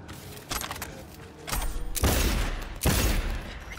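Revolver fire in the video game Cyberpunk 2077 comes as a few heavy, booming shots spaced about a second apart, each with a rumbling tail over a constant in-game background.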